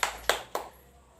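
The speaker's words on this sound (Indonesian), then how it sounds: "Jadi tepuk tangan untuk kita semua." Three sharp, evenly spaced hand claps ring out in a classroom during a lesson, close and crisp, followed by quiet.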